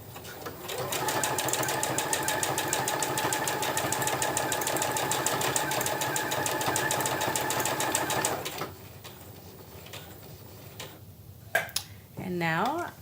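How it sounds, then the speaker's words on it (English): A sewing machine stitches a buttonhole on a fabric tote bag, running in a rapid, steady whir of stitches for about eight seconds before stopping. A few handling noises and a brief voice follow. "I'm just going to press firm pressure on the foot control and let the machine do all of the work"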